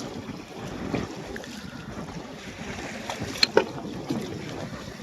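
A small fishing boat sits on a river during a Baishakh storm with big waves. Gusty wind buffets the microphone in a low, steady roar with a couple of brief knocks, fairly faint overall.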